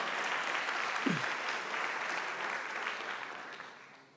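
Audience applause at a college convocation: a sustained wash of many hands clapping at moderate distance, with a brief low voice sound early on, slowly fading at the end.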